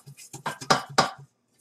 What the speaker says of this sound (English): I want to take this off and whisk my salt into that flour